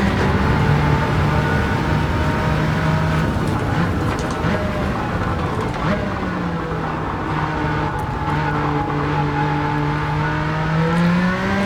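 A 1992 Jaguar XJ220 race car engine in Gran Turismo 7 at Trial Mountain drones steadily from inside the cockpit, its pitch rising and falling with the revs, loud and continuous with no talking.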